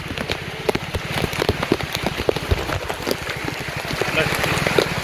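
Steady heavy rain pattering on surfaces in a flooded town square in Pathankot, with dense scattered drops and a constant wash of noise; faint voices murmur in the background.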